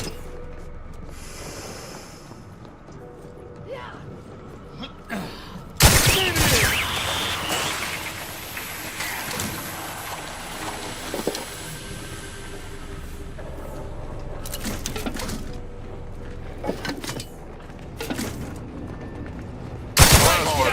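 Loud bursts of gunfire in The Outer Worlds 2, sudden heavy volleys separated by quieter stretches of rumbling game noise, with occasional voices from characters.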